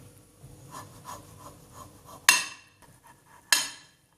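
Olives are cut on a boti or with a knife: a few soft taps and scrapes, then two sharp, loud chopping strikes about a second apart, each ringing briefly before fading.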